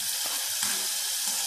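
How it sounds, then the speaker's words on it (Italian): Duck breast speck sizzles in hot olive oil with a sprig of rosemary, a steady close crackling hiss that runs without a break and with no voices over it. "Vado a mettere sull'olio caldo, sentirete sfrigolare il petto."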